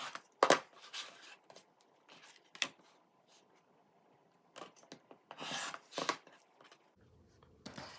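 Rotary cutter or scissors slicing down the middle of sewn quilt fabric squares for half-square triangles in a churn dash block, heard as a few brief, faint rasping cuts with quiet gaps between them.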